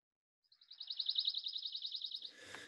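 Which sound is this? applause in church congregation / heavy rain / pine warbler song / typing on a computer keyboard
pine warbler song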